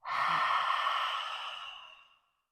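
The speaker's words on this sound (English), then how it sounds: "So we're creating a bit of a restriction at the back of the throat. So we'll do that again. Inhale and exhale." A single long, breathy exhale is pushed through a narrowed throat during yoga breathing practice. It starts strong, fades slowly over about two seconds, and is heard close up with no talking.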